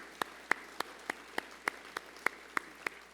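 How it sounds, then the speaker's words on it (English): Faint, evenly spaced hand claps, about ten in a steady rhythm, with a quiet hiss in the background. "we should absolutely applaud them"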